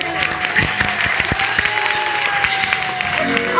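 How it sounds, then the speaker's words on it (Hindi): A crowd at Khushboo Uttam's live stage show claps loudly for the performers, a dense continuous patter with a few sharper claps near the start, while a voice speaks over it. "एक बार इन लोगों के लिए जोरदार से ताली।"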